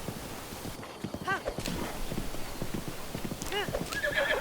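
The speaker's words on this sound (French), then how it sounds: "vous prenez votre cheval" Horse from Zelda Breath of the Wild gallops with rhythmic clip-clop hoofbeats, then neighs twice in bright whinnies, close and clear over a steady game background.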